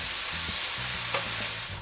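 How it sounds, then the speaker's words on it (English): About six strips of bacon sizzle in a fry pan, a dense, constant hiss close by, with faint low clatter underneath. "Okay, so I've got about 6 strips of bacon. So I'm going to place that on a fry pan."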